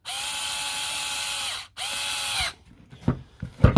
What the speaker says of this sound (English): So I drive the long screw up here